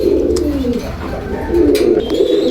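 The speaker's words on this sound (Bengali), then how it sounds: "ভিউয়ার্স একটা পেয়ার আছে মাদ্রাজি কবুতর, ডিম বাচ্চা রানিং" Madrasi pigeons, a breeding pair with eggs and young, coo steadily in low rolling throaty phrases, close and fairly loud, with faint chirps and rustling behind.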